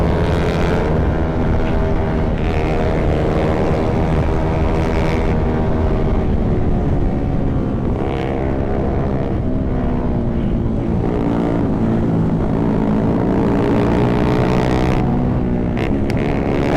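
Motorcycles on a downhill run at Sibuco produce a loud, continuous engine roar with shifting pitch and steady wind rumble, as if recorded close on a moving bike.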